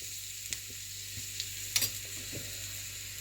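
Garlic cloves sauté quietly in hot oil in a pan, a faint soft sizzle under a hiss with a few light clicks and scrapes of stirring, no speech.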